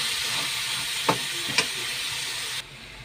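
Meat and tomato cook in a hot pan with a steady sizzling hiss, broken by two brief clatters of stirring, before the sizzle drops to a quieter level near the end.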